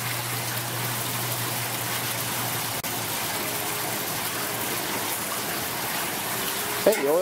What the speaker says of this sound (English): we're going to now turn on the oil, and John is plugging in the oil